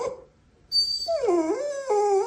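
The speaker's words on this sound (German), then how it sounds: "Und ich habe den Hund angeschnallt." An excited dog strapped into a car howls and whimpers in rising and falling wavering tones after a brief quiet start, loud and close, with no talking.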